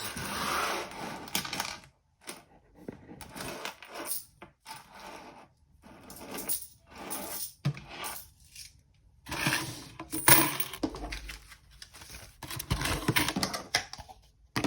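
Cash notes and coins being handled and slipped into budgeting envelopes, with paper rustles, coin clinks and taps coming in irregular bursts between short quiet gaps, close up and fairly soft, with no talking.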